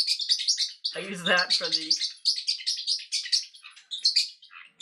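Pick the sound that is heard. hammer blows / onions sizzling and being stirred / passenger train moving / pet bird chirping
pet bird chirping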